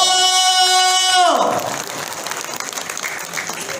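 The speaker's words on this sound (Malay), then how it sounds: "tepuk tangan sekali lagi buat Mr. Wow." A short burst of clapping and applause from a crowd at a product presentation follows a rising musical chord, the clapping continuing steadily to the end.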